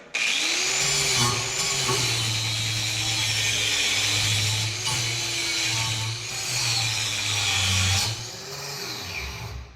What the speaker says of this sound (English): I'm going to take this power wire brush